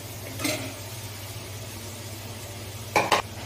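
Chicken fried rice with omelette is stirred in a pan over a faint steady sizzle, with two short scraping bursts, one near the start and a louder one near the end.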